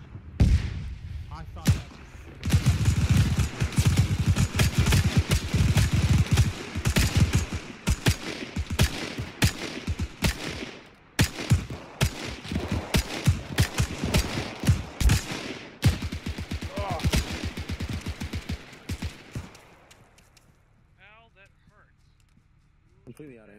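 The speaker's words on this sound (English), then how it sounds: "He's shooting!" Rapid bursts of rifle and machine-gun fire from soldiers in Arma 3's WWII paratrooper combat, dense and loud, then thinning out toward the end, with people talking over the shooting.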